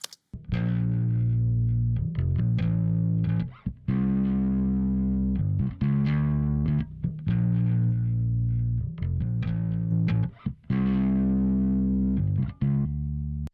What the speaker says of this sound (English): It's concentrating much more on the sound of the distortion itself